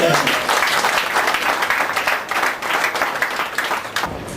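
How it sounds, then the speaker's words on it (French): Guests at a civil wedding ceremony at a town hall register office applaud the newlyweds, Mr. and Mrs. Kibwe, as they return to their seats: loud, close, dense clapping with murmured voices underneath, easing slightly near the end. "On les applaudit pendant qu'ils se gagnent leur place."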